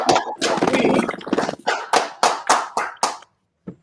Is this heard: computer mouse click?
no